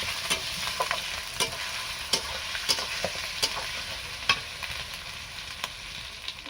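Spice masala with dried chilli powder stir-fried in a pan for khichuri, a steady sizzle broken by regular scraping strokes of the spatula roughly every half second, close and moderately loud with no talk.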